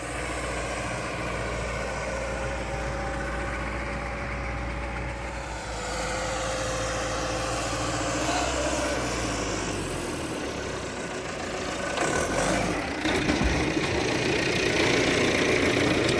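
A tractor engine idles continuously with a steady rumble and a low mechanical knock, close by and fairly loud, with no talking.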